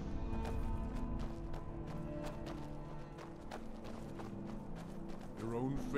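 A horse gallops in Skyrim, a steady run of rapid hoof clip-clops under a constant low game ambience, with voices talking over it.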